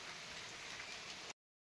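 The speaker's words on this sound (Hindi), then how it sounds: "क्योंकि बारिश हो रही है तेज" Steady, dense hiss of heavy rain falling on a surface in Uttarakhand, even and unbroken, cutting off abruptly after about a second.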